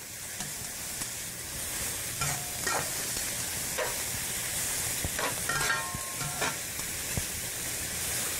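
Zucchini sizzles steadily in a hot pan while being stirred, with scraping strokes and occasional clinks of the utensil against the pan rising above the constant frying hiss; no one talks.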